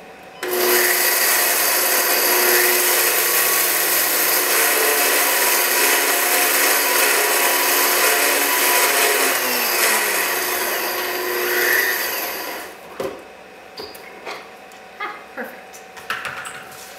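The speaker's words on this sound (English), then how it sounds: "Gonna put some in my Blendtec blender" A Blendtec blender roars at full power for about twelve seconds, a loud steady whirring grind that cuts off abruptly, leaving a few faint clicks and handling knocks afterward.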